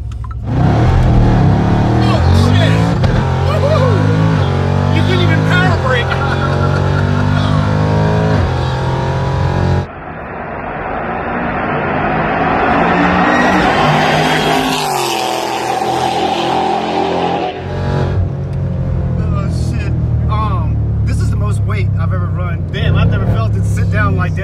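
Roaring engines of a Jeep Trackhawk and a BMW M car rev hard and launch in a street race, the loud growl rising and shifting through gears, with excited voices shouting over the noise.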